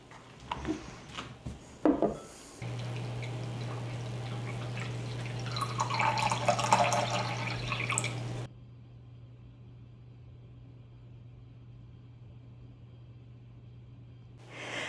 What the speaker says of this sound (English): I've filled this vase with water